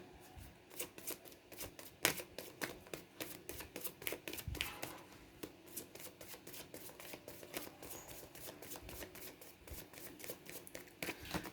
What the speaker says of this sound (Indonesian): Saya sisihkan kartu yang tertutup, kita baca kartu yang terbuka ya.